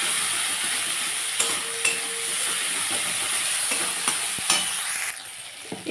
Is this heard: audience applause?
no